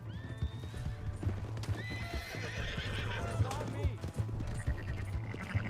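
In Red Dead Redemption 2, a horse whinnies while its hooves clip-clop in a steady rhythm, with game voices and music under the sound.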